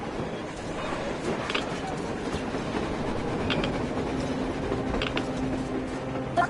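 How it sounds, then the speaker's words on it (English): A train in the game Metro Exodus rumbles steadily along on the surface with rhythmic clacking of wheels over rail joints, a continuous mechanical roar with occasional metallic squeals. "A train! A damn train on the surface!"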